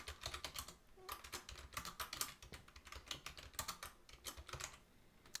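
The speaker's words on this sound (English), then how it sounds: "now the universe is punishing me because now I have to type it out too" Fast, steady typing on a computer keyboard, a dense run of close, crisp key clicks with brief pauses and no talking.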